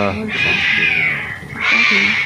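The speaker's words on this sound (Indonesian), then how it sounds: "Waduh, kucing berantem ya." Two cats fight with drawn-out, wailing yowls and caterwauls, one long cry followed by another after a brief dip, loud and close, with human voices murmuring underneath.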